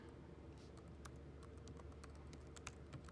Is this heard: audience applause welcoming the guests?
no